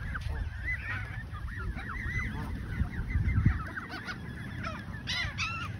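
A flock of geese honking repeatedly and overlapping, close by at a lake with goslings, with a low rumbling noise underneath.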